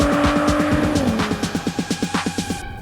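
A 2022 Porsche Panamera sports car driving, its engine note rising then shifting into a steady rapid pulsing rhythm, loud and close, with a brief tire-like squeal partway through.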